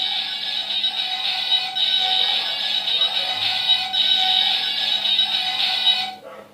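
A Mini Cooper toy car plays a different electronic sound effect when the button on its other side is touched. A bright, shrill tone sounds loud and near, wavering in pitch for about six seconds before stopping abruptly, with no talking.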